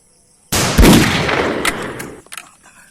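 A single loud gunshot from a gun rings out close by, opening with a sharp blast and tailing into a long fading crackle and rumble, with no voices over it.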